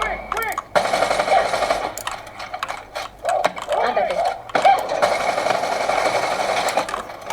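Rapid bursts of video game gunfire rattle in quick strings over a low background hum, with a voice talking excitedly throughout, during live gameplay on a Core i3 12100 PC.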